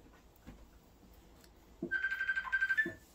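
A mobile phone ringtone chirps in short repeated tonal pulses, faint and brief, starting near the end after some quiet handling knocks.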